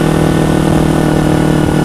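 A motorcycle fitted with an aftermarket Works exhaust drones loudly and evenly at close range, a short, constant engine note with no voices.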